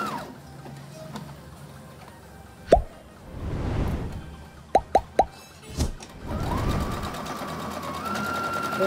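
A sewing machine stitches through thick leather in short mechanical runs, with a few sharp clicks and taps between two longer whirring stretches, close and fairly quiet.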